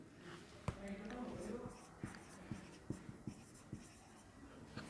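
A pen writing out a math solution on paper, producing a series of short scratchy taps and strokes at an irregular rhythm, close and fairly quiet, with a faint background murmur.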